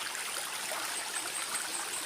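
A slightly murky river flows in a steady, broad hiss, constant and unbroken for the whole stretch.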